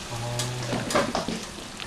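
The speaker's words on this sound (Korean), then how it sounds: "이렇게 탕수육을 튀기거든요" Tangsuyuk, Korean sweet and sour pork, deep-fries in oil in a busy Chinese restaurant kitchen, a loud continuous crackling sizzle with a brief tonal hum and scattered clinks of stirring over it.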